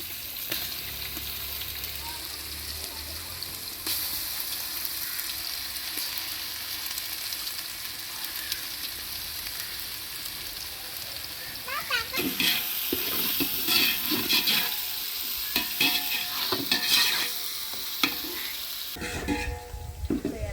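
Ginger garlic paste fries in hot oil for chicken biryani with a low, continuous sizzle. The stirring grows busier and louder partway through, with scraping and clinking of a spoon against the pot.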